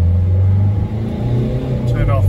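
Diesel engine of a 2003 Renault Trafic 1.9 dCi van with low power and no boost below 2,500 rpm, droning loudly at full throttle with a steady low rumble that barely rises, and someone speaking over it.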